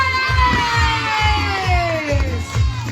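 A crowd of girls shouting and cheering together at a Children's Day event, loud and excited, with rhythmic thumps underneath.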